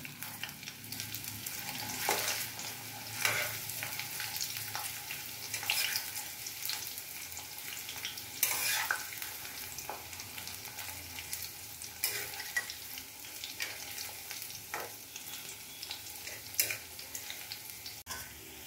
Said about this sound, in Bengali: এইভাবে পাট পাতাগুলোকে আমি ব্যাটারে চুবিয়ে গরম তেলে দিয়ে দিয়েছি